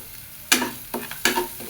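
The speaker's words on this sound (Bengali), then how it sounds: "দিয়ে মশলাটা কষায় নেব" Spice paste of turmeric and salt stir-fried in a pan for a fish and fig-potato curry, heard as a few distinct scraping stirs with a soft sizzle between them, close and moderately loud, no talking.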